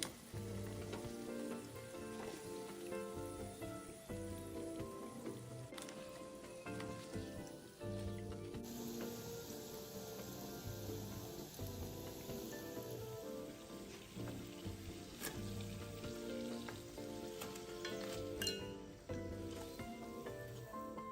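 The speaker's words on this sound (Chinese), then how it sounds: "油炸時長約2分鐘左右。" Shrimp and chive fritters deep-fry in hot oil, giving a steady crackling sizzle that runs throughout with tonal background music beneath it.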